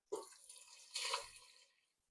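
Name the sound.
pouring broth into a pot of French onion soup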